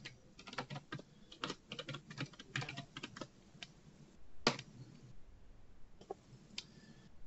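Computer keyboard being typed on to enter login credentials, quick irregular bursts of soft clicking keystrokes close by with short pauses between, fairly quiet and with no talking.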